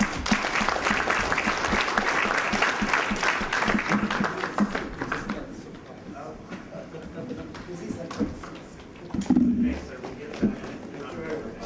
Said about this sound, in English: all of us give them a round of applause